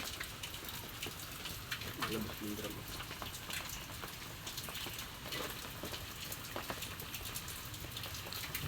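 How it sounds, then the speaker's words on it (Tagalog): Steady heavy rain hisses and patters continuously close by, with a few faint voices in the background. "Malakas pang ulan."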